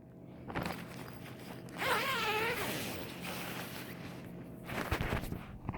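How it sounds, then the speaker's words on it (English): A tent's tri-zipper is drawn in a few short rasping pulls, close and fairly quiet, with a longer run in the middle and faint handling noise between strokes. "it sort of has a nice tri-zipper system right here"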